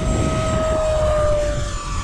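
An E-Flite Viper 90mm electric ducted-fan RC jet whines loudly on its takeoff run down a runway, a steady high-pitched turbine-like tone holding strong throughout with a faint rushing wind beneath.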